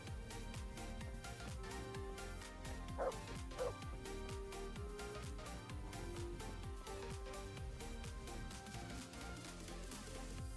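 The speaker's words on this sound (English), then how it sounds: "I can sick the dog." A dog barks and yips in quick repeated bursts, close and fairly loud, the barking continuing throughout amid other household noise.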